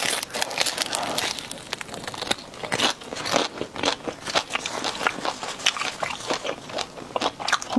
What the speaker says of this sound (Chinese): 现在吃大肠中